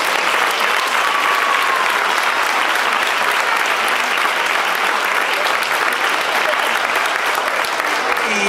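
A crowd gathered at a youth football club presentation applauds a women's team, loud, dense and sustained clapping that stays even throughout.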